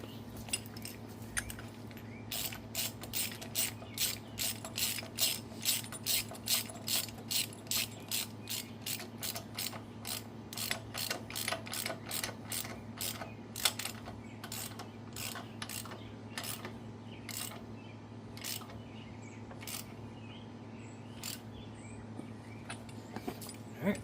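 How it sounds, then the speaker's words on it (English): A hand ratchet clicks steadily while turning bolts on a 1958 Farmall 450 diesel tractor during a wide front conversion, rapid bursts of clear metallic ticks coming close and repeated over a low steady hum, with no talk. "let me get a ratchet now"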